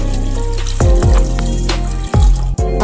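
Water poured from a tap into a pot for cooking tapioca pearls, a steady close splashing and gushing stream with a few sharp knocks and clanks of the container, no talking.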